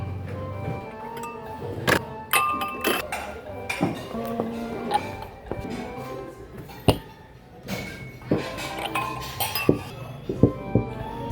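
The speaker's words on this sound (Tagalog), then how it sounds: "latag na tayo ng mga baso tsaka baso" Drinking glasses clink and tap as they are set out one by one on a surface, with irregular bright knocks and chimes spread across the moment and some background voices.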